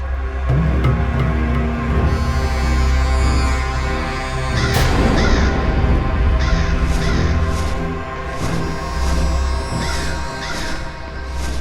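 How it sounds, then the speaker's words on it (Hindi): A crow caws repeatedly in short harsh calls over a loud, steady droning music bed, the caws coming in irregular clusters and fairly prominent against the background. "खोदा पहाड़ और निकला कौआ"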